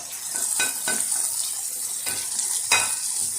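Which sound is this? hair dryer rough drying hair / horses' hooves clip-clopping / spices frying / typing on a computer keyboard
spices frying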